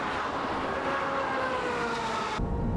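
Ferrari 355 F1 racing down the Fuji straightaway, a sustained high engine whine with rising pitch that holds steady and cuts off abruptly near the end.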